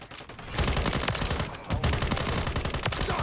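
Rapid automatic gunfire rattles almost nonstop in a Call of Duty match, loud and dense bursts with a brief pause partway through, and no voices.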